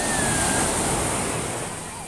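Surf rolling onto Pasir Putih Jambu beach at Anyer as a dense, broad, steady wash of waves, fairly loud and continuous with no voices.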